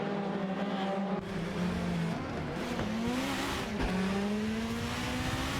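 Racing cars in an AI-driven racing game, among them a Peugeot 406 and a Nissan Primera, drone steadily with shifting engine pitch as they run close together, with no talk over them.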